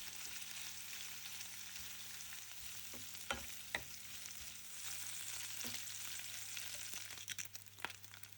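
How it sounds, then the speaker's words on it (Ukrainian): Bacon frying in a preheated pan for pasta carbonara, a steady soft sizzle and crackle with a few sharper pops, fairly quiet and without any talk. "Розігріваємо петельню і на розігріту петельню відправляємо бекон. Обсмажуємо його до золотавої скоринки"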